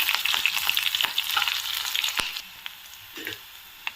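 Mustard seeds, cumin, urad dal, curry leaves and dried red chillies fry in hot oil, giving a close, bright sizzle with scattered pops and crackles that eases off toward the end.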